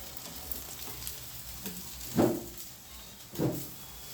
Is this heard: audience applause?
no